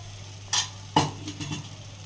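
Homemade yogurt being stirred into stuffed okra in a pan, heard as two or three brief scraping strokes against a steady low hum, with no talking.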